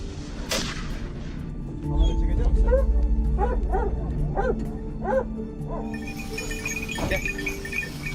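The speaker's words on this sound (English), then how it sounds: "The wild boar is surrounded by the hunting dogs." Hunting dogs surround a wild boar and bark in a rapid, repeated series, moderately close, with a sharp bang near the start and another near the end amid outdoor background noise.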